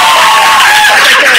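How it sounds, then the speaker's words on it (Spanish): A loud TV studio audience cheering and whooping, with applause mixed into a dense roar of voices, brief and close. "un aplauso para allá, María."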